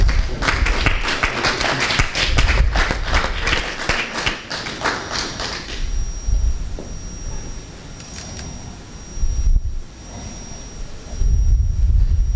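Audience at a church ceremony honouring women servants of God clapping loudly and steadily, then the applause thins out to scattered claps and quieter room noise before swelling again at the end.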